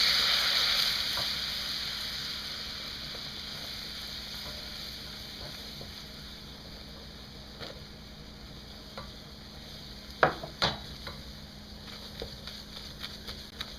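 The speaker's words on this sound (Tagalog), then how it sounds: "unti-unti nating ilalagay yung all-purpose flour habang hinahalo" All-purpose flour stirred into melted butter in a pan while making a bechamel sauce: a soft, steady sizzle with a few sharp scraping taps from the spoon near the end, no talking.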